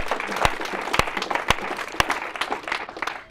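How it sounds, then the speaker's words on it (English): A church audience gives a round of applause, with steady crowd clapping and a few sharp, louder individual claps standing out at regular intervals near the listener. "Can we give him a round of applause?"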